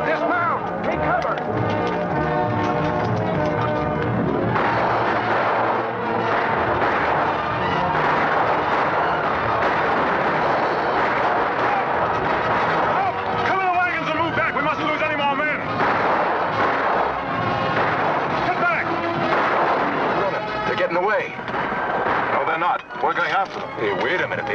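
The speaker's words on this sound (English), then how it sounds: "Everybody, take cover and open fire." Gunfire in a cavalry battle scene from a 1940 western film, dense volleys of shots mixed with orchestral music, hoofbeats and shouting voices throughout, loud and continuous.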